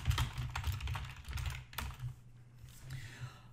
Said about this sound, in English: Obviously, I'm just typing some sample stuff in here.